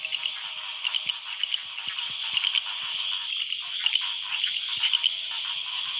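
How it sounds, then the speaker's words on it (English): A night chorus of frogs calling to mate in Belize, a dense steady trill with sharper clicking croaks repeating irregularly throughout, fairly near and continuous. "The frogs' mating songs also court danger."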